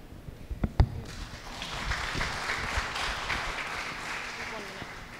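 An audience at a debate on whether the Quran promotes peace breaks into applause. After a few sharp claps it swells into a broad, steady wash of clapping that fades slowly, with no words heard.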